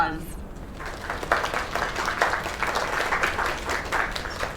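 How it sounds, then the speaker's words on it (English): Crowd applause in the video game Lake, a steady patter of many hands clapping at moderate distance with a voice over it near the start. "Another round of applause."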